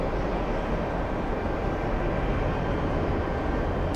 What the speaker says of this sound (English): There it is. UPS flight crossing